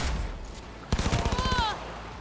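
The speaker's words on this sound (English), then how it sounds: "Don't shoot at me while I'm looting." Gunfire in Cyberpunk 2077, a short burst of rapid, loud shots fired in quick succession, with a voice nearby.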